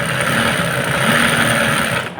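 A home sewing machine stitching garments runs with a steady, close mechanical whirring and rattling that continues throughout, then cuts off at the very end.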